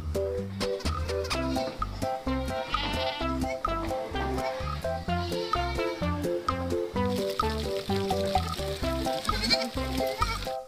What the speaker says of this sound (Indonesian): lihat, di sini ada kambing.